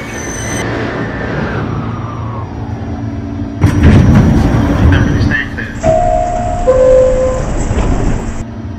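A Coney Island-bound N local subway train rumbles and clatters loudly, with screeching brakes and a chiming door tone near the end.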